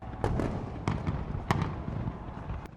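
Fireworks burst over Sydney Harbour Bridge at a New Year celebration, a steady crackling rumble punctuated by several sharp loud bangs spaced about half a second apart.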